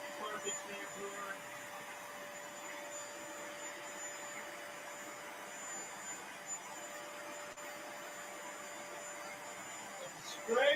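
A carpet shampooer vacuum runs with a steady, even suction drone and mains-like hum for the whole stretch, close by, with a brief louder burst at the very end.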